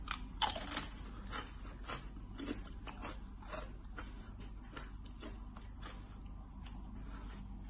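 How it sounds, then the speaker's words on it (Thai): Crunchy pork rinds are bitten and chewed close up, a run of sharp, crackling crunches in an irregular rhythm, louder at first and then settling into quieter repeated chewing, with no talk. "แคบหมู"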